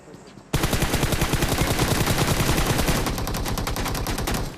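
Rapid automatic gunfire in the mobile battle-royale game BGMI, a loud, close burst of dense repeated shots that runs almost continuously for several seconds after a short quieter opening.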